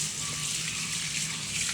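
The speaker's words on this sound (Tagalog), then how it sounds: "Pero sirita natin siya ng tubig." Water sprayed onto a dirty TCL split-type aircon filter during cleaning, a steady close hiss of spray and splashing that runs unbroken throughout.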